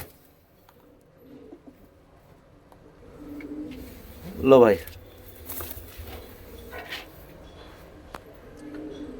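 A single brief pigeon coo rises mid-clip among Punjabi Malwai chatri pigeons, faint and close, with someone talking and quiet handling noise around it.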